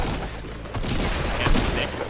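Rapid gunfire bursts from a pump shotgun and other weapons in the Fortnite video game, loud and close, with a player's voice talking over the shots.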